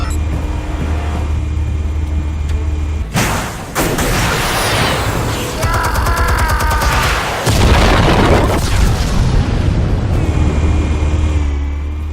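Explosives detonating in a Batman video game, a loud booming blast that erupts suddenly and rumbles on over a low engine-like drone, with no speech.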